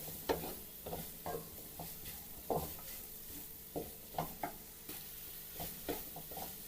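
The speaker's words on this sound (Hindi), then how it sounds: "ये देखिए इन सबको हम हल्का सा फ्राई कर लेंगे।" Ingredients for chicken tikka macaroni fry lightly in a pan with a soft, steady sizzle, while a spatula scrapes and clinks against the pan in repeated stirring strokes close by.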